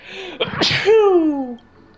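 A single sharp sneeze, close and loud, with a quick inhaled buildup followed by a drawn-out, descending burst of voice.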